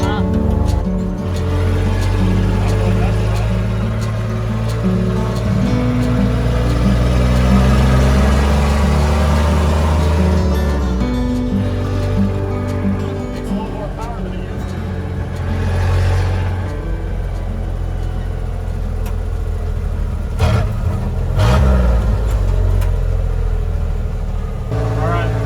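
A Willys Jeep CJ5 fitted with a Chevy 4.3L engine runs with no muffler, a loud, steady low rumble that rises and falls with revs throughout, with a person talking over it.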